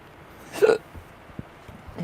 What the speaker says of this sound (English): Hiccup. I hate hiccups,